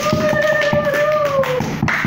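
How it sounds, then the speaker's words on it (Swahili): A church congregation at a Sunday service claps in rhythmic bursts, close and fairly loud, with a sustained tone from an instrument or voice running underneath. "Ongezeni makofi."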